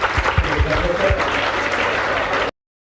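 Round of applause from participants at a residential orientation program, brief clapping over a low murmur of voices that cuts off abruptly.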